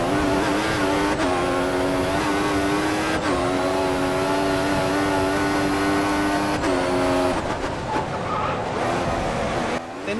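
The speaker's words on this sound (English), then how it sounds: "You probably want to hear the engine sounds" High-pitched turbo V6 whine of a Mercedes Formula 1 car in the F1 2014 racing game, rising through gears with abrupt shift drops, sustained and loud before easing off near the end.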